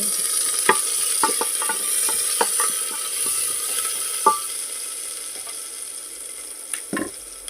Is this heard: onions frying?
yes